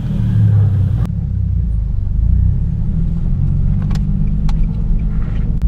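A Nissan 370Z pulls away in first gear near the beach, its engine a steady, close low rumble heard from inside the car, with a few faint clicks and no voices.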